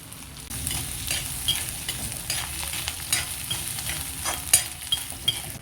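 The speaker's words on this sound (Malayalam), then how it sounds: "ചൂടായ എണ്ണയിലേക്ക് അധികം തേങ്ങ ആഡ് ചെയ്യാം" Steady crackling sizzle of grated coconut frying in hot oil for fish curry, with occasional sharper pops and faint scraping of a spoon in the pan.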